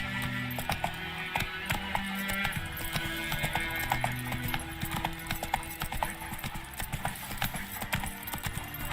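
Horse hooves trot in The Witcher 3, a steady clip-clop rhythm running throughout at close range over ambient game music and background noise.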